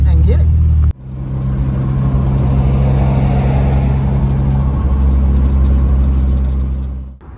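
A car in a racing video game drones along an interstate with a steady, loud engine hum after a brief cut, holding an even pitch before fading at the end.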